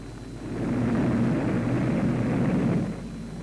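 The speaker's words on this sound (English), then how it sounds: "And now we've got dive bombers out for blood." Dive bombers in a war video game swoop in attack with a rising, roaring aircraft rumble that swells and holds loud for a couple of seconds before easing off.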